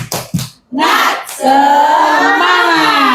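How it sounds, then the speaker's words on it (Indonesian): A group of participants at a school discussion session performs the 'tepuk semangat' spirit clap: a few sharp, rhythmic hand claps, then a loud, sustained shout from many voices together. "Kita tepuk semangat dulu ya, biar biar semangat."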